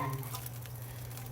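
Garlic hits a hot pan during cooking of low-carb bulalo steak, giving a faint, steady sizzle with soft crackles over a low background hum.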